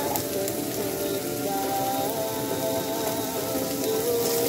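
Onion, garlic and ginger sauté in a hot pan for a Filipino string bean and squash coconut stew, giving a steady close crackling sizzle that holds evenly throughout with no talking.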